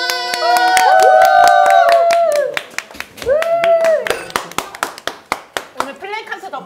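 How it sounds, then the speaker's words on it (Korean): A women's football team claps together in a locker room after a match, sharp hand claps ringing out in a quickening series while several voices shout and cheer over them. "박수!"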